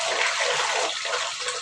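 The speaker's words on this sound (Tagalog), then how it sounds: "Okay pala pag dito sa lababo magbanlaw." Running water rinses something in a kitchen sink, a steady close splashing gush that carries on throughout.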